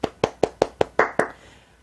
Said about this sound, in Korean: 우리 하나님께 영광의 박수 드릴까요?